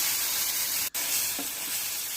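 Ground masala paste sizzling in ghee with asafoetida, mustard seeds and reddened onion for a bhindi toor dal sambar, a steady loud frying hiss with a brief pause partway through.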